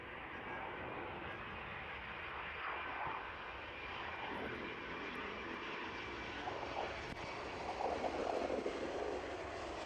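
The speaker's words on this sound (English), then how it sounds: "That one is taxiing out now." A jet airliner taxis out at East Midlands Airport, its engines giving a steady broadband roar close by that swells slightly near the end. No voices are heard.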